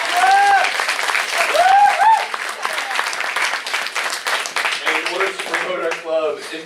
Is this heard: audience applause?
yes